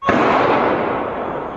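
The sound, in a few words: gunfire on the streets of Paris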